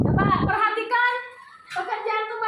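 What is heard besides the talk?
None of the usual background noises is heard.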